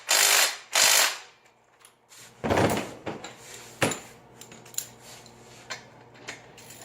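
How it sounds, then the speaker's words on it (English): Ratchet tightening the center bolt on a 20-inch kids' basic BMX bike handlebar, two loud opening strokes followed by sharper clicks and clunks that grow fainter and sparser. "use a ratchet to tighten the center bolt the rest of the way"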